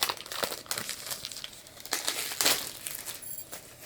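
Plastic wrap crinkling and tearing as it is peeled off a Peachy Queen Anatomy makeup palette, close and continuous with sharp crackly bursts over about four seconds.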